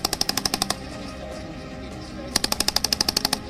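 Indian and Australian troops fire during a joint war exercise in Bikaner: two sharp bursts of rapid automatic gunfire, evenly spaced rounds, separated by a pause of roughly a second and a half.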